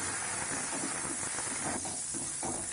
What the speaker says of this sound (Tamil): இஞ்சி பச்சை மிளகாய் போட்டு நம்ம தாளிச்சுக்கலாம்.